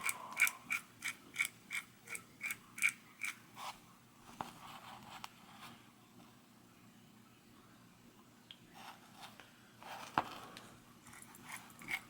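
Freehub body ratchet on a bike wheel clicking as the wheel is turned by hand after lubing, a quick run of sharp regular clicks that slows and fades into quieter scattered ticks, close and alone.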